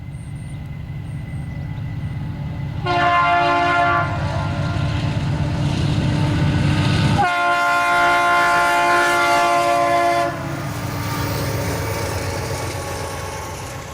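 Conrail freight train TV55 rolls past heading west, loud and close, its horn blasting in long harmonic tones over the steady rumble of wheels and engines, with the horn sounding again and the rumble fading slightly toward the end.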